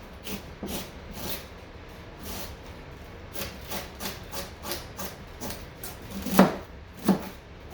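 Carrots being cut on a wooden board, a regular series of soft knife strokes and rubbing scrapes with a couple of sharper knocks near the end, close and quiet.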